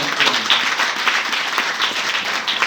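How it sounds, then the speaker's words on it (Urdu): Church congregation applauding loudly during a sermon, steady dense clapping from many hands, close and continuous. "زوردار تالیاں اپنے خدا میں."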